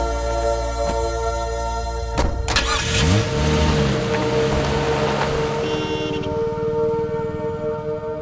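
A car is started and driven out in a tense night scene, engine turning over after a couple of sharp knocks and then revving with rising pitch, moderately loud and without talk.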